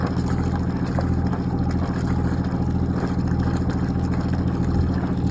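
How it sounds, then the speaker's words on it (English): A 35-year-old boat's engine runs steadily up close, a loud continuous throbbing drone with a low rhythmic pulse and no speech. "Engine really sounds terrific. I hope you can hear it."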